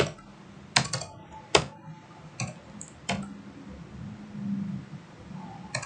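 A handful of sharp, irregular keyboard clicks, spaced out like slow typing, close by over a quiet room hiss.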